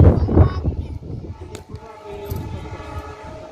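A train rumbles past close by with a heavy low roar and rattling, a faint horn-like tone drifting over the top, and a voice briefly heard early on.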